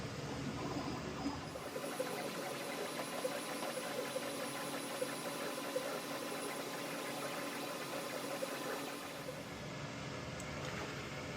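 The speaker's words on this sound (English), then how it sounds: "And now I'll hit engrave." A Genmitsu Kiosk laser engraver works at 96% power and 4,500 mm per minute, giving a faint, steady mechanical hum with a soft fan hiss that holds constant throughout.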